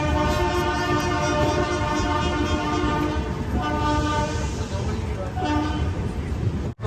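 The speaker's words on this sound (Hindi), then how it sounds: "ट्रेन अपनी निकल चुकी है, आपको दिखाते हैं डिपार्चर।" The Howrah Duronto Express departs, its horn blaring loud and steady with a continuous rumbling train roar and a faint voice underneath throughout.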